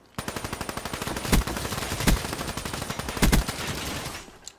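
Rapid automatic SMG fire in Black Ops 3 gameplay, steady bursts of sharp shots with a few louder heavy impacts mixed in, clear and close with no voices.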